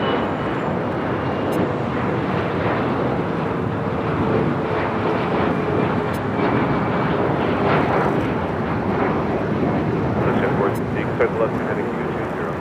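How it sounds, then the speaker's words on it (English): Air Tahiti Nui Boeing 787 Dreamliner, Flight 8, arriving at LAX, a steady broad jet roar that holds loud and even throughout, with voices talking over it. "It's the Air Tahiti Nui Dreamliner, Flight 8."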